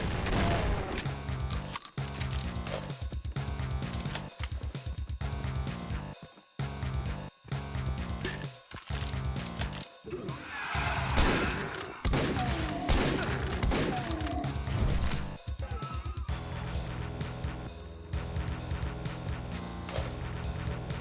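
Mag 10 shotgun fire from the Ashes weapons pack in a Doom mod, heavy booming blasts in irregular bursts with mechanical clanks and crashes between them, over constant game music and noise.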